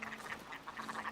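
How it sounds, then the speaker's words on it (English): A noisy bird creature in a video game repeats a quacking, honking call in quick bursts over a low steady hum, fairly quiet and unaccompanied by talk. "this bird's noisy"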